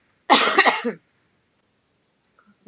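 One close, harsh cough burst into a microphone, then near silence with a faint sound at the end.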